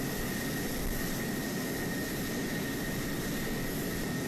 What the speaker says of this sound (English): The F-16 is a compact, multi-role fighter that first became operational in early 1979.